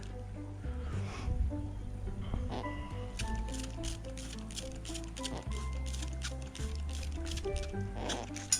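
Water is poured over a Harris hawk to cool it down on a hot day, giving a close, continuous wet splashing and trickling with small squishy bursts and a steady low hum underneath.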